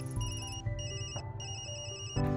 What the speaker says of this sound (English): Damn, that's my work phone